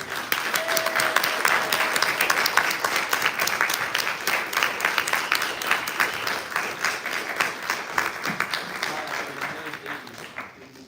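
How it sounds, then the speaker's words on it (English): A live audience at a poetry reading gives sustained applause, dense and steady clapping for about ten seconds before tapering off, close and fairly loud, with faint voices underneath. "Put your hands together, clap, do snap, whatever you gotta do to let them feel welcome"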